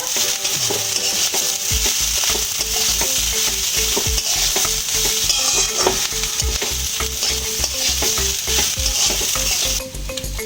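Coriander powder, chili powder and salt are stirred together in a hot pan while making Basanti pulao, a loud steady sizzle with rapid rhythmic scraping and tapping of a spoon throughout.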